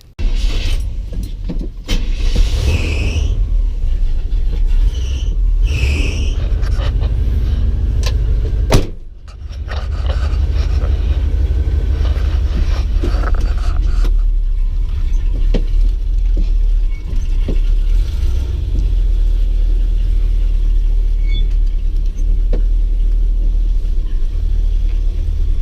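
A truck engine fitted with a knockoff Rochester carburetor idles with a deep, steady low rumble close by, broken by a brief clunk and dip partway through before settling back into an even idle.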